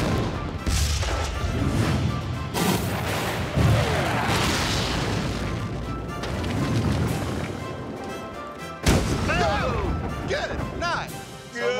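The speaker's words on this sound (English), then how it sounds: "Once that barrel blew into a million pieces" A barrel explodes into pieces outdoors with a heavy booming blast, followed by a long stretch of loud crashing and rumbling debris, with people shouting and cheering over it.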